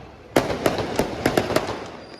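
Firecrackers burst on a street during New Year's night celebrations, a series of about seven sharp, loud cracks at irregular intervals, some close together, over a steady background hum.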